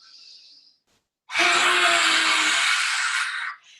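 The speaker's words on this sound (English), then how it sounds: "we practiced lion's breath during this." One forceful, breathy yoga lion's breath exhale through an open mouth with tongue out, a loud rushing hiss lasting about two seconds, preceded by a faint quieter breath.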